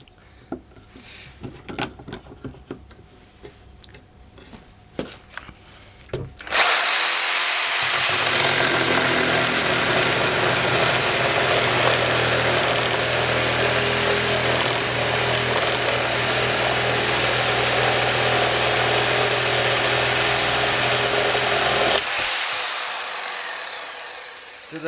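A Bosch GSA1100E reciprocating saw starts up and runs at a steady, loud high-pitched whine for about fifteen seconds, then winds down gradually with no electronic brake, after a stretch of quieter clattering handling noises.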